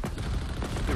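Gunfire in Halo Infinite during a Scorpion tank battle: dense rattling shots crackle over a continuous rumble, with players talking over it.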